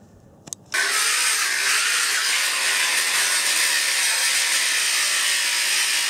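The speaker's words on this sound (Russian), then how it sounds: "С этой стороны сейчас сделаю второй пропил." Steady, loud continuous grinding or cutting through a metal garage frame member, starting abruptly after a brief clunk and running unbroken and close-up to the end with no voices.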